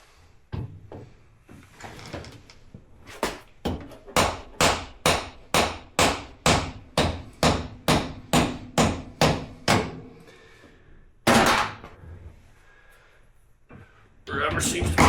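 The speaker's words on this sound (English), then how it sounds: "Start with the little hammer and you don't end up messing stuff up." A small hammer strikes metal on a Honda Talon ATV axle in a long run of about twenty sharp, evenly spaced taps, close and loud, ending with a heavier blow and a clatter.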